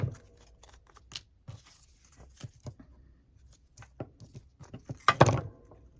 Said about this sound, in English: I am going to snip it off over here.